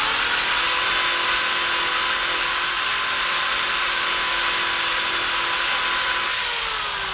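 A power tool spins a Flitz orange buffing ball for polishing a motorcycle sprocket, giving a steady, loud high-pitched whine that holds for several seconds and eases slightly near the end.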